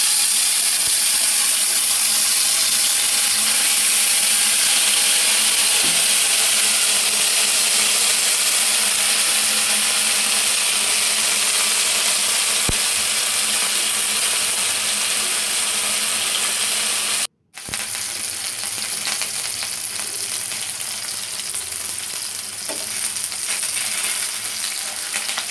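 Fish pieces frying in hot oil give a steady, loud sizzle that continues throughout, with a brief dropout partway before the crackle resumes.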